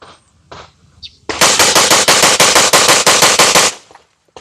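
Rapid pistol fire from a P320 fitted with a compensator, a fast string of roughly a dozen loud, sharp cracks in tight rhythm after a quiet start, ending abruptly.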